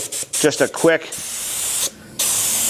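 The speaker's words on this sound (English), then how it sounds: "you can take your spray gun and just do that" A spray gun lays a medium finish coat onto furniture: after a few quick spoken words, a short hissing burst is followed by a longer, steady, close spray hiss that stops briefly and then resumes.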